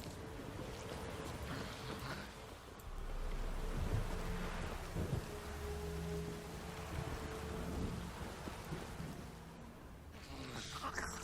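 Rain falls in The Witcher 3 as a steady patter and hiss, mixed with low rumbling and gusting wind, staying fairly even in level throughout with no one talking.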